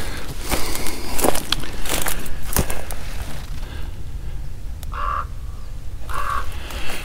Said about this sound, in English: that raven has been croaking back there the entire time we've been in this basin